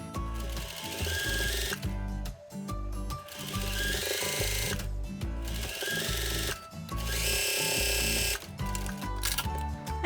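A sewing machine stitches along the edge of a folded apron neck strap, loud and close, running in long rapid bursts with brief pauses between them.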